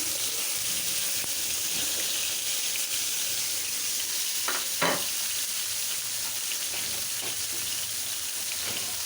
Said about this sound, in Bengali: কেটে লবণ দিয়ে একটু হলুদ গুঁড়ো দিয়ে মাখিয়ে নিয়েছি এখন এটা ভাজবো একবারে দিয়ে দিলাম